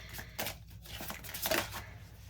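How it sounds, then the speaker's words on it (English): A short riffle of cards being shuffled, a couple of quick papery flutters and taps close up, with no talking. "we are going to shuffle these planet cards"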